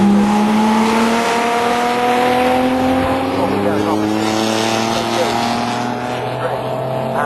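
Jaguar XJS race cars in the Toyo Tyres XJS Championship at Snetterton roar past with loud sustained engine notes that shift pitch as they brake into a corner, under continuous commentary.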